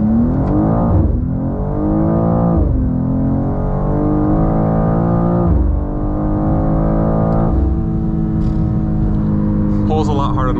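A 2024 BMW M2 accelerates hard through several gears on a back street, its engine note climbing and dropping with each shift, loud from inside the cabin.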